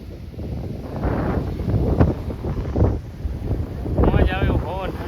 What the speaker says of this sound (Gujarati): ખતરનાક મોજા આવે હો